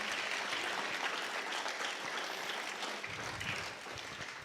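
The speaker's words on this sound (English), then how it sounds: "And then an applause, please, for our moderator and Julia," Applause from a live candidate forum audience for the moderator and timekeeper, a continuous wash of clapping at moderate distance, fairly soft and steady, tapering slightly toward the end.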